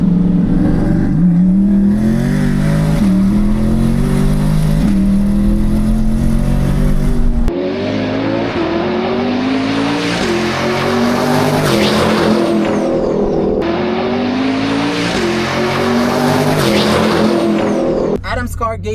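A modded C8 ZR1 and a 1000-horsepower C8 Stingray race, engines revving loud and close through repeated upshifts with rising pitch, with voices talking over the roar.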